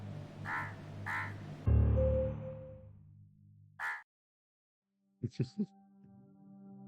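Crows caw in the puzzle video game Monument Valley: two harsh calls close together, a third after a pause, then soft chiming game tones.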